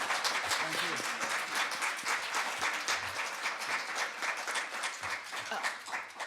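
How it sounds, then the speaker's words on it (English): An audience gives a round of applause after a panel on children's and teens' mental health, dense sustained clapping from many hands at a moderate distance, holding steady for several seconds. "Can we give them a round of applause?"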